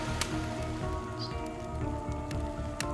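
Rain falling in the Dead by Daylight dating game Hooked On You: a steady, dense patter on a surface that runs throughout, with soft sustained music underneath and no talking.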